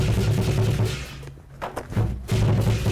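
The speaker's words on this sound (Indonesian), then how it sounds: "itu suara barongsai loh" Loud, dense clattering of Chinese lion dance drums and crashing cymbals, nearby and continuous, with a brief dip in the middle before the pounding surges back.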